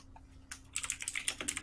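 Fast typing on an expensive computer keyboard, a rapid run of crisp, close key clicks that starts after a brief quiet moment and continues steadily, with no voices.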